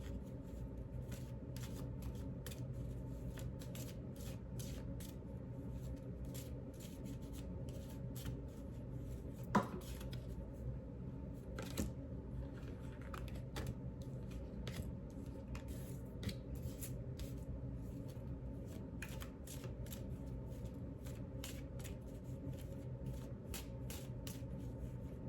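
Tarot cards are shuffled and pulled for a reading, making soft rustles and light flicking taps that continue through a quiet room. A few sharper snaps stand out.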